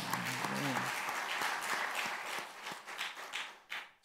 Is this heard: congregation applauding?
yes